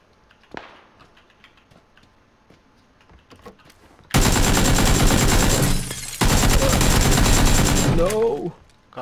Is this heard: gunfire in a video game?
yes